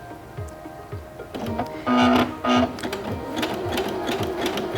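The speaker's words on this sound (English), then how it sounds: "My machine is sewing at its lowest speed right now" A Singer Featherweight C240 sewing machine stitches fabric at its lowest speed, a steady rhythmic chugging of the needle mechanism with a motor whir, punctuated by two brief louder whining bursts.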